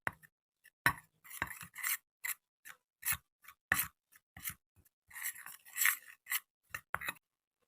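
Turmeric powder and maida flour being mixed by hand for fishing bait, a series of short dry rubbing and scraping strokes in irregular bursts, close and quiet with no talk.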